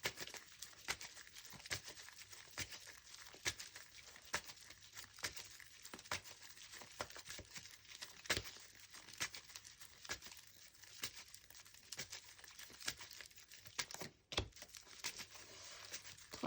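Tarot cards drawn and handled during a reading, with continuous close crinkling, shuffling and sharp snapping of card stock, steady throughout with no speech.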